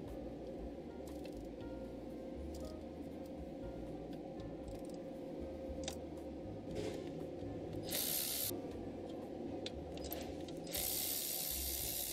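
Ratchet wrench working on the two 13mm bolts at the motor generator unit and heavy-duty belt tensioner of a 2021 Ram, with repeated clicking pawl bursts over a steady low shop hum, close and moderately loud, no talking.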